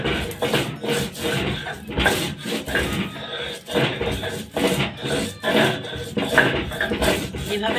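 Salt is scrubbed across a flat grinding stone slab in repeated back-and-forth strokes, a close, loud, gritty rasping that rises and falls in a steady rhythm.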